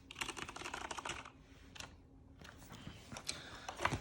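Rapid keystrokes on a Corsair K95 RGB Platinum mechanical gaming keyboard, close and fairly loud, with a brief pause near the middle before the typing resumes.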